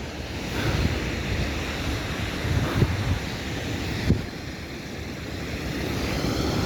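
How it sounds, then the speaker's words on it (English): Ocean surf builds and breaks on the beach at Corralejo, Fuerteventura, a steady wash of waves with a couple of louder crashes under heavy wind buffeting on the microphone. "look at the waves, they're starting to build"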